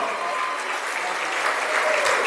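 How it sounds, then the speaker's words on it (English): Wedding reception guests applaud the couple in a steady, dense wash of clapping throughout, swelling slightly toward the end, with faint voices mixed underneath. "let's give Rhonda and Romel a round of applause again, please"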